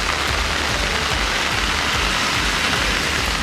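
Widespread rain falling around the Western Ghats hills of Kanyakumari district, a steady, dense hiss of downpour that stays loud and even throughout, with no voices over it.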